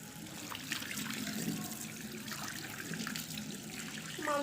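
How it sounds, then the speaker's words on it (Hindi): A child's hands are washed under a running tap at home, giving a steady, close gush of water splashing into a sink that lasts the whole time, with no talking. "पहले हैंड वॉश करो।"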